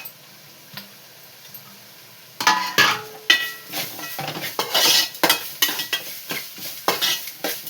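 Tomatoes dropped into a cooking pot and stirred, heard as a soft thump followed by close, rhythmic scraping and clinking of a spoon against the metal pot, with faint sizzling underneath.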